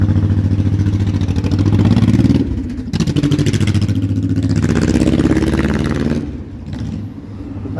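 A loud motorcycle passes on a downtown Toronto street, its deep engine drone swelling and dipping as it goes by, with no talk over it.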